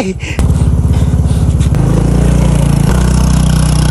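A motorbike engine starts up and runs close by, a loud, rapid throbbing idle that steps between steadier pulsing tones, with a brief scrape at the start.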